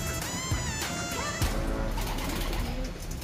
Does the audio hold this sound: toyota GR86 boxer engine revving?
no